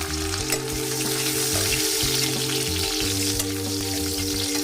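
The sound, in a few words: potato strips frying in mustard oil in a wok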